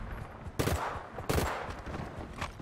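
A suppressed army rifle fires at zombies on an abandoned farm in GTA V, two sharp bursts of rapid shots about a second apart, punchy and close, with a faint softer pop trailing after and no talk.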